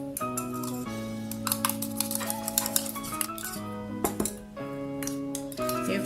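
A spoon stirs a face pack of orange juice and aloe vera gel in a small bowl, giving steady close clinks and scrapes that run on without pause.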